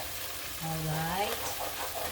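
Hawaiian-style curry meatballs frying in a pan over high heat, giving a soft, steady sizzle that swells slightly midway, with a brief hum of a voice over it.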